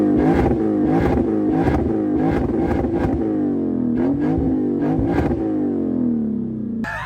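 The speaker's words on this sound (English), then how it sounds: "that rasp is gone from my exhaust finally, and it's just straight smooth V8" A Lexus IS F V8 with a new 3-inch exhaust revs repeatedly, rising and falling in loud rhythmic bursts that sound smooth and rasp-free, with no voices.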